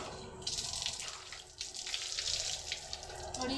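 Water poured and splashing steadily while buffaloes are washed outdoors, a continuous running, tap-like gush with no voices.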